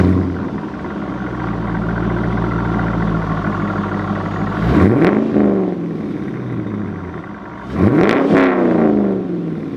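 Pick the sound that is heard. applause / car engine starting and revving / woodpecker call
car engine starting and revving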